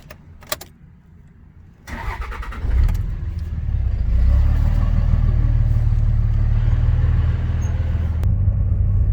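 Inside a car as the engine starts and the vehicle pulls away, a steady low rumble of engine and road noise building and then holding, with a few clicks and thumps early on.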